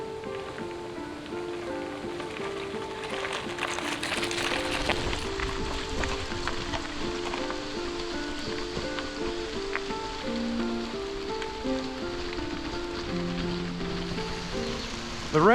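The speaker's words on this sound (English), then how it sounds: "the rain's back." Steady rain patters on surfaces in a Costa Rican rainforest, with a constant wash of drops under faint tonal background sounds and no talking.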